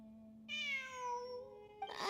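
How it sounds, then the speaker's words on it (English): A cat gives one drawn-out, tonal meow, clear and close, against a steady background hum, followed by a short rougher noise at the end. "It really is a cat."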